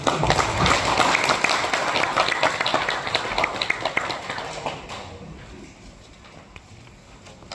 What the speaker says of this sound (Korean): 자, 박수로 환영하시죠.